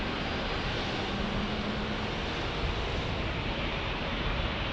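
A British Airways airliner flies past outside in San Diego, a steady broadband jet roar that holds constant and fairly loud the whole time, with no voices over it.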